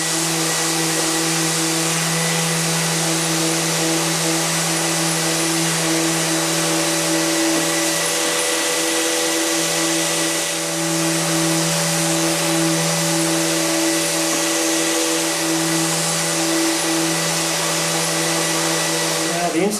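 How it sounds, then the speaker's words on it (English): Random orbital sander works a wooden rocking chair headrest, a loud continuous whirring drone with a steady motor hum running unbroken for the full twenty seconds, close and alone. "The inside face has now been nicely cleaned up and properly shaped with the random orbital sander."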